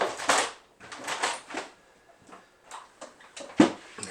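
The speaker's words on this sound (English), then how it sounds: "I'm going to give it some rosin right now." Rosin cake rubbed along a violin bow's hair in a series of irregular, close scraping strokes, some short and some longer, with brief pauses between them.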